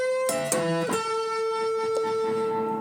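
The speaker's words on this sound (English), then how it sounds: "So the descending lick sounds something like this." Electric guitar playing a fast descending lick with distortion, a quick cascade of a few picked and hammered notes in the first second, then a held note ringing out clearly.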